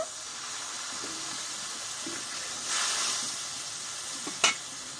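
Water splashes into a pan of frying ginger and tomato, setting off a steady soft sizzle with a brief swell of hissing steam and a sharp clink near the end.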